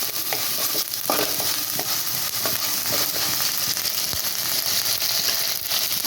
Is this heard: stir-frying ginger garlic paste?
yes